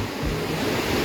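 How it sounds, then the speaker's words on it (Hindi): Floodwater from a swollen river roars through the ruined Bahrain main bazaar near Kalam, a loud, dense, continuous rush with no pauses and no voices. "अब ये सारा दरिया इसके अंदर जा रहा है।"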